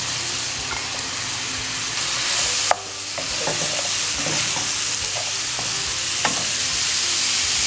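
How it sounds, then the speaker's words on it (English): Vegetables frying in a pan with chicken over low heat, a constant close sizzle broken by occasional sharp scrapes and taps of a stirring utensil, with one louder knock near the middle and no talking. "And now I'm adding my vegetables to the pan."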